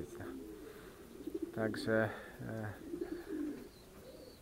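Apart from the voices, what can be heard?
racing pigeons cooing after landing at loft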